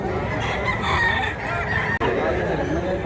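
Roosters crow and chickens cluck amid a busy outdoor chicken market in Mantalungon, Cebu, close and fairly loud, with crowd chatter underneath.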